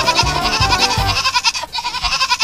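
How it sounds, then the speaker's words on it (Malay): Several goats bleat in quick succession, loud and close, their wavering calls overlapping in a rapid rhythmic series. "bek, bek, teriak kambing-kambing itu"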